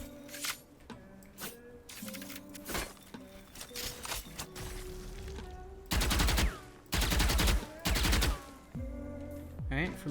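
A Viper snakebite lineup being fired in Valorant, with loud broadband gunfire-like bursts at around six, seven and eight seconds over a busy background of game effects, with some talk.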